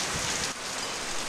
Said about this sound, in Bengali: আমাদের এখানে খুব বৃষ্টি হচ্ছে